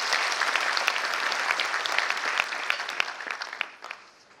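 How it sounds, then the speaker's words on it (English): Graduates and guests at a graduation ceremony break into a full round of applause, dense bright clapping close and loud at first, then thinning out and fading toward the end. "Give yourselves a round of applause."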